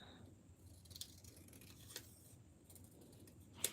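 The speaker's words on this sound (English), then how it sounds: "And I can cut this out." Scissors cutting out a paper decoration, a few quiet separate snips spaced about a second apart, close and faint against a low background hum, with a sharper final snip.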